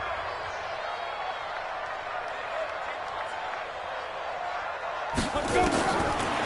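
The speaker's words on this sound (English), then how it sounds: "The crowd getting into it as we come up on a big 3rd down." A stadium crowd in a PS4 American football game roars steadily ahead of a big third down, then swells louder near the end. A commentator's voice carries on over the noise.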